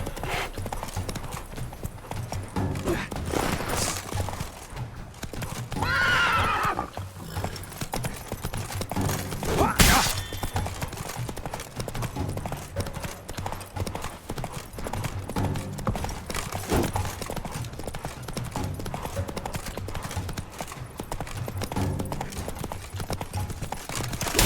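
A horse in The Witcher 3 gallops flat out in a tournament joust, hooves drumming in a fast steady rhythm close by, with a whinny breaking in partway and a sharp clash near the middle.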